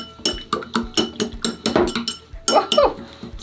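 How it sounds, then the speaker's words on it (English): A spoon or wand stirs colored water in a cup, giving a run of quick, bright clinks and taps close by, irregular and fairly loud, with a brief pause before a final flurry. "Okay, stir it up."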